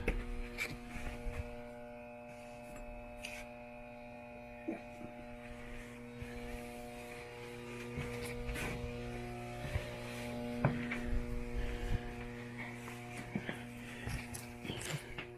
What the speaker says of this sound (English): That's the washing machine.